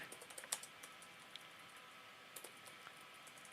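Light, quick typing on a computer keyboard, a soft patter of key taps in an uneven run that clusters at the start and again midway, faint and close against a quiet room hiss.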